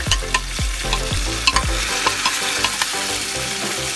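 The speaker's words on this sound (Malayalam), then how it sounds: "തക്കാളി നല്ലതുപോലെ വഴറ്റി കൊടുക്കാം." Tomatoes and browned garlic sauté in a hot pan for a dried-fish biryani, a steady sizzle close by under repeated scraping strokes of a spoon, with a few sharper knocks against the pan.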